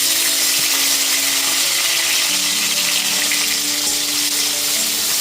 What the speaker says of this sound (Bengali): তেলের ওপর টমেটোটা একটুখানি নাড়াচাড়া করে নিচ্ছি